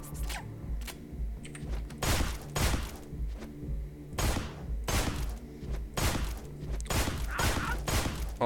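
Rapid gunshots crack in the video game Deadbolt, arriving in dense, punchy bursts and single shots one after another across the whole clip over a low game background.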